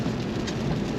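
Steady rain heard from inside an Infiniti Q50 Red Sport 400 while driving, a dense, even hiss of drops with low road rumble underneath.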